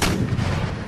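Dense, loud gunfire and booming volleys from an early eighteenth-century battle in the strategy game Empire: Total War, a continuous rumbling roar with no gaps.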